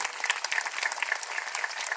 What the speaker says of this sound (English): Give them applause, please